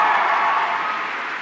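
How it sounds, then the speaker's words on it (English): Thunderous applause from a crowd at a political speech, a dense steady wash of clapping heard alone and gradually easing. "that drew thunderous applause from the crowd"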